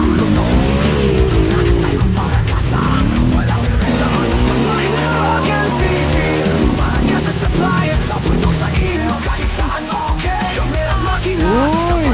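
Dense road traffic around a motorcyclist on a Yamaha Ténéré 700: cars and engines rumble continuously and loudly up close, with pitch sweeps from passing vehicles and occasional tire squeal, and no talk.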